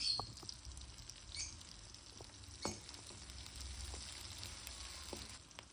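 Onions softening in hot oil in a pan for Tamil kara kuzhambu, a steady low sizzle and crackle running throughout with occasional soft clicks and stirring scrapes, close and fairly quiet with no talking.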